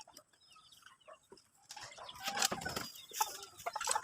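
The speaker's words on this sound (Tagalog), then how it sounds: "Oh, mga alagang manok." Pet chickens around a rural Filipino home, with soft scattered clucks and bird calls at first, then busier louder farmyard clatter and clucking in the second half.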